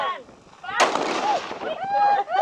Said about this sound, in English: Firing the cannon at 1 o'clock was a traditional way that passing ships could check their clock.